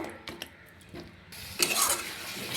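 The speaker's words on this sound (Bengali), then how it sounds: "এবার মশলাটাকে আমি ভালো করে কষিয়ে নিব।" Spice paste for mushroom curry being sautéed in a pan with a splash of water, giving a soft sizzle with scraping stir strokes that grows louder and brighter in the second half; no talking.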